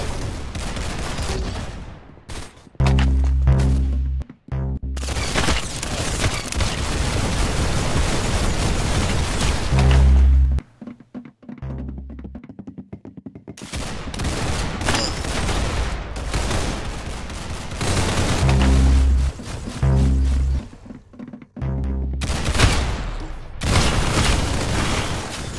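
Gunfire in the Roblox shooter Arsenal, loud bursts of rapid shots and booms in several separate volleys with short quiet gaps, close and without talk.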